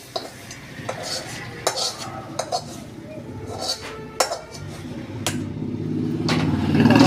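A roasted spice mixture is stirred into mashed potato, giving soft scraping and repeated clinks of a spoon against a pot. A low sizzle and a brief clatter rise toward the end, all close by.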